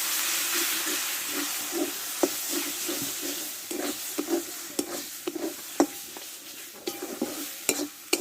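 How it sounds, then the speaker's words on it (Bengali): Ground cumin and coriander masala with a little water frying in a pan, a steady close sizzle and hiss broken by scraping stirs and the clack of a spoon, with no one speaking. "অল্প একটু জল দিয়ে মশলাটা কষে নেবো ভালো করে"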